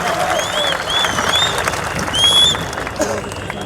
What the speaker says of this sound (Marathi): एकदा जोरदार टाळ्या वाजून आपण सगळ्यांनी स्वागत करूया.